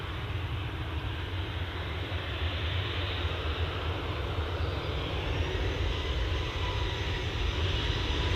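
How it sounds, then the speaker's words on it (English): A Turkish Airlines Airbus A350 airliner passes with a loud, steady jet engine roar that holds broadband and rumbling throughout, continuous and close with no talking. "Turkish today is an A350, is it?"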